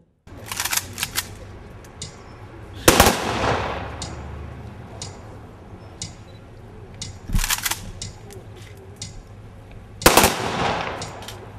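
Gunshots fired into the sky at a memorial rally for fallen soldiers: sharp, loud volleys burst out at intervals against outdoor crowd ambience, each crack echoing briefly before the next round.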